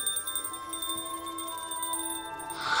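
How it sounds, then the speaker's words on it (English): A fairy's voice chimes like a small bell, several bright, sustained metallic tones ringing together and fairly close, with a louder shimmering flourish at the very end. "You jingle when you talk, like a little bell."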